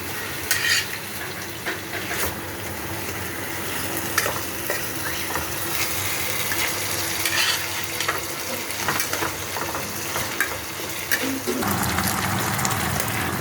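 Surmai fish cooking in a thick, dry masala gravy gives a loud, close bubbling sizzle, broken by scraping stirs and utensil clatter, with a brief quieter dip near the end.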